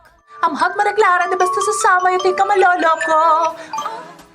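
A chiming electronic melody plays alone for a few seconds, bell-like notes stepping up and down like an alarm tone.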